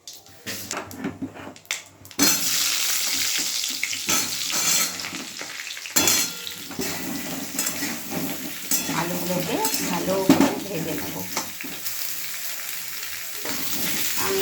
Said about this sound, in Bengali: এইবার তেলে আমি আলুগুলো ভেজে নেবো